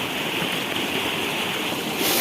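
Fast-flowing stream water rushes loudly and continuously close by, a dense broadband roar with no voices.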